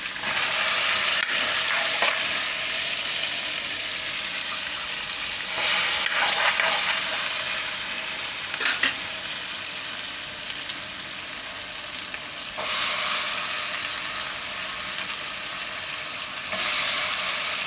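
Corn kernels and chili flakes hit hot melted butter in a pan for a corn Maggi dish, giving a loud, steady sizzle with brief bursts of stirring scrapes and crackles throughout, no voices.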